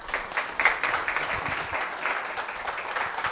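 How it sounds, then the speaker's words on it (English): A modest audience at a mayoral candidates' forum on housing affordability in Reno claps in a dense, fairly quiet patter that holds steady and then tapers slightly. "Can we get a big round of applause for all of our candidates?"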